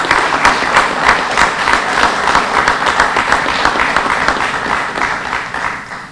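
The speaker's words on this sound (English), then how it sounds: "So, round of applause, please." Audience applause fills the room at a foundation's annual meeting: steady, dense clapping from a sizable crowd, fairly loud and sustained for several seconds before starting to thin out at the end.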